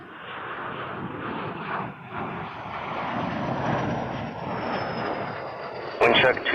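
An Air Canada heavy jet lining up on runway 23 at Toronto Pearson produces a continuous broadband engine rumble and whine, moderately loud, with radio chatter over it.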